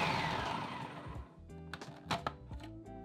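A food processor pulses butter, golden caster sugar and salt for shortbread, its motor whir fading quickly within the first second or so, followed by soft clunks and handling knocks.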